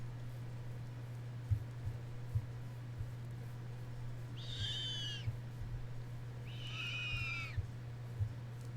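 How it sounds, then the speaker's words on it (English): An owl in a Minecraft modpack gives two loud, clear hoots a couple of seconds apart over a steady low hum with faint clicks, and no one speaks. "That's an owl."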